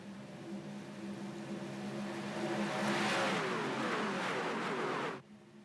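Race trucks roar around the Daytona track under green-flag racing, a dense engine drone that swells as the pack passes near, then cuts off abruptly.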